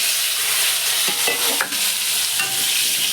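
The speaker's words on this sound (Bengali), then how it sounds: "তেল গরম হয়ে গেছে, দিয়ে দিলাম আলুটা।" Cut potatoes hit hot oil in a home kitchen pan after a cumin tempering and are stirred, giving a steady, dense sizzle and hiss with a few scraping clatters of the spoon.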